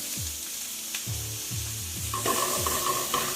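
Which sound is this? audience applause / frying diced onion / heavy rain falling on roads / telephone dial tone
frying diced onion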